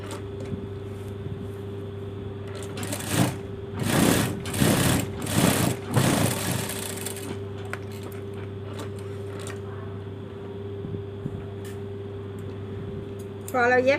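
A sewing machine stitches a fabric waistband on a skirt or trousers in several bursts of rapid mechanical whirring, close and fairly loud over a steady electrical hum.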